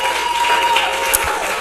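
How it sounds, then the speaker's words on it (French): Audience applauding a choir at its anniversary concert, a dense, steady wash of clapping from a crowd. "On faut applaudir encore,"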